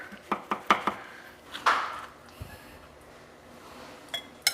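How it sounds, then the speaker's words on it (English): A knife cuts into a fresh pie pumpkin, with a series of sharp, close knocks and clinks against a board or dish, irregular and spaced out over a few seconds. "I'm supposed to cut like 3 slices so that they kind of come out easier, that first slice."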